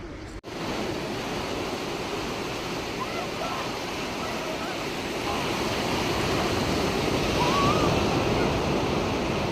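Sea waves washing onto a shore where the water has pulled back, a continuous broad roar of surf that swells slightly louder toward the end, with some wind noise.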